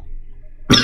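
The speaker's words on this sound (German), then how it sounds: "Ich verschluckt und hab jetzt Husten." A single sudden, harsh cough from someone who has just choked on something bursts out near the end after near silence, loud and close.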